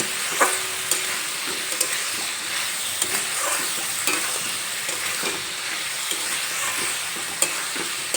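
Mixed vegetables sauté with ginger-garlic paste in a pan, a steady close sizzle punctuated by regular spatula scrapes and taps, with no one speaking.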